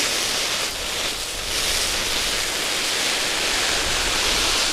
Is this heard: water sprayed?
yes